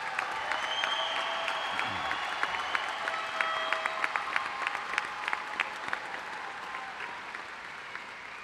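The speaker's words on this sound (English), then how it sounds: "Let's give our young people who are here tonight a big round of applause." Big round of applause from the audience at Averill Park High School's 92nd commencement, sustained crowd clapping heard from a distance in a large venue, steady and even throughout with scattered sharper claps.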